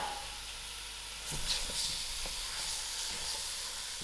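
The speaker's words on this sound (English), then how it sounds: "Now I'm going to add in my rinsed Loki to the pot." Rinsed loki (bottle gourd) going into a hot pot with cooked-down tomatoes for spicy dhal, setting off a steady close hiss and sizzle that swells briefly as the pieces land, then settles into constant frying.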